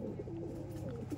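A pair of pet pigeons, male and female, cooing softly in a short low burble, faint and close against a quiet background, no speech.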